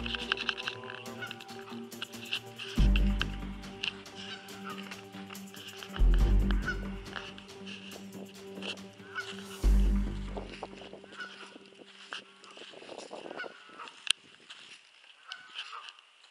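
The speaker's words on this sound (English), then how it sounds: "there's the geese, they're not too happy." Geese honking repeatedly in a swamp, loud nearby calls overlapping with three heavy thumps and some croaking-like sounds in between.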